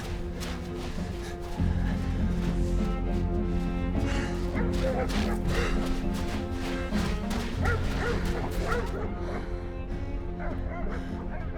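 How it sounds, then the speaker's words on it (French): Several German shepherd dogs bark and yelp continuously in a tense outdoor film scene, a loud, dense, overlapping chorus of barking with some whimpering and clatter. "Dites à votre Dieu de faire taire ces chiens."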